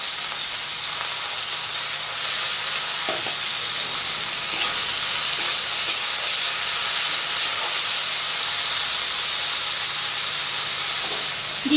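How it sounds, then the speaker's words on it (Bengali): Blanched bottle gourd peel drops into hot oil with browned garlic, setting off a loud, steady hiss of frying that carries on evenly with a few faint clinks. "এবার এই ব্লাঞ্চ করে রাখা খোসাটা আমি এর মধ্যে দিয়ে দিচ্ছি।"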